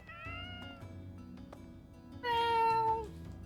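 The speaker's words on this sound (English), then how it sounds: "Meow!" One loud, drawn-out cat meow rises near the end over quiet, tonal background music in the video game Fire Emblem Three Houses.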